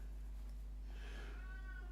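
A cat gives a single faint, drawn-out meow at a distance, rising over a low steady hum.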